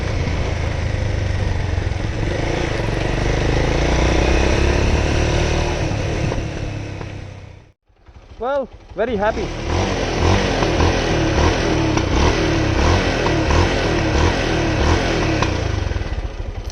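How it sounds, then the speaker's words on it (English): A performance motorcycle engine revs and accelerates loudly and close by, with a brief drop near the middle before the engine returns strongly; someone speaks briefly over it. "Still rides like a dream, The engine is beautiful even now. Got the acceleration, got the grunt,"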